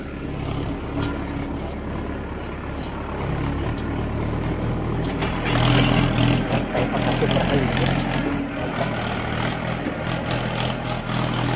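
A farm tractor engine runs steadily throughout, a low continuous rumble that grows louder midway, with faint voices in the background.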